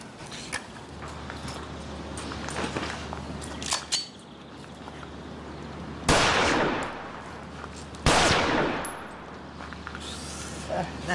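At a shooting range, a pistol fires two loud, sharp reports a couple of seconds apart, each with a short ringing tail, over quieter background clatter and occasional faint voices.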